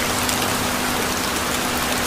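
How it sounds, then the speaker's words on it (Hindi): Steady rain pours in a cartoon scene, a dense, even hiss that stays loud and unbroken throughout without any voices. "जल्द ही गर्मी का मौसम बारिश में बदल गया"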